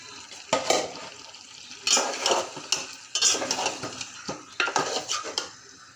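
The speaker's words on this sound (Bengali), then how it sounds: "এখন মাংসগুলো দিয়ে দিব।" Chicken pieces from a Bangladeshi desi chicken bhuna go into spices frying in a pot and are stirred, giving several bursts of clattering scraping and sizzle with short pauses between, close and fairly loud.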